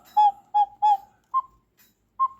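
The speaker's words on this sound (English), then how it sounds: "Plug up the hole, low note bellow." Bakelite cuckoo clock bellows with the hole plugged, sounding hooting whistled notes: three near-identical hoots, then two shorter ones after gaps, clear and close, with no speech.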